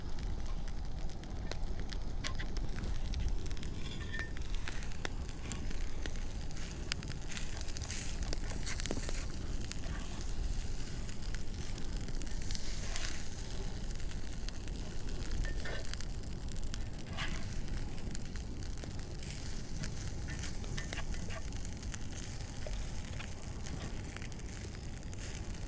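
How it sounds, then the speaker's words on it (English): A very hot campfire at a kayak camp burns steadily, giving a dense continuous roar with scattered crackles and pops, heard up close with no talking throughout. "This campfire is absolutely ripping hot."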